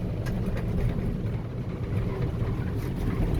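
A Kubota M7060 tractor runs its PTO to drive an RCF3010 brush hog, giving a steady, loud, low mechanical drone that holds without a break.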